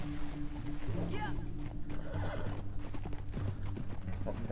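A horse in Red Dead Redemption 2 clip-clops rhythmically while it lets out a sharp neigh, set against a busy background with faint voices.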